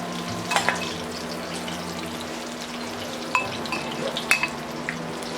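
Beef pieces frying in hot oil for broccoli beef, a steady close sizzle with a few sharp clinks of utensils against the pan midway.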